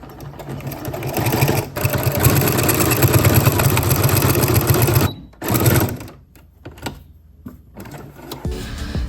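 A sewing machine runs steadily and loud for about five seconds as it sews a back stitch, then stops and starts in short bursts with pauses between.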